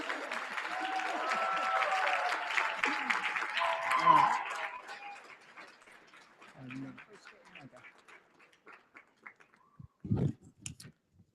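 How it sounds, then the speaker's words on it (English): Applause from wedding reception guests at a walima, broad and fairly loud for about four seconds, then thinning into scattered claps and chatter, with a short burst of voices near the end. "And another round of applause."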